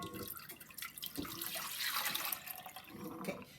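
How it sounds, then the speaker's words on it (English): Whole milk is poured into a pot in a continuous liquid splash and trickle, fairly quiet and close, with small fluctuations as the stream hits the pot. "I'm measuring the 4 cups of whole milk and I'm adding it to my pot"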